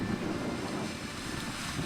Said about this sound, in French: guetter les vagues terminant leur course folle en se fracassant sur les rochers